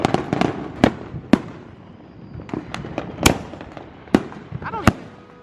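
Fireworks and firecrackers crack and pop on the 4th of July in a string of sharp, loud bangs at irregular intervals, some near and some farther off, with voices heard between them.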